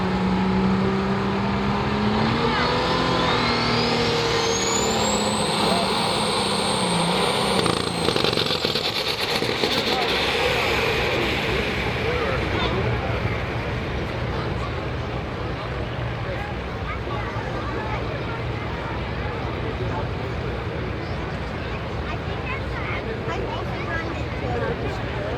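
A heavy tractor-pull engine roars and revs up, pitch climbing as it strains under load, then settles into a loud, rough, sustained drone.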